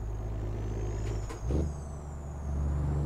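Air brakes hiss on a Peterbilt 379 hauling cattle in American Truck Simulator, a brief release burst cutting through the steady low diesel drone, with the engine rumbling on alone afterward.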